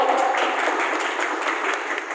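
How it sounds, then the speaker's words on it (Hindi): Guests at a Vestige gathering in Guthani are welcomed by a crowd clapping in a brisk, continuous burst of applause, dense and fairly loud throughout. "एक और बढ़िया शानदार तालियों से उनका स्वागत करिए"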